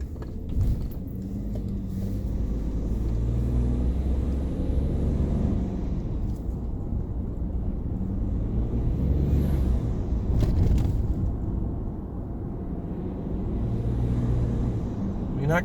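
Ford F-150 EcoBoost pickup with modifications driving with the windows up, a muffled low engine and road rumble that swells now and then, with brief bursts of talk inside the cab.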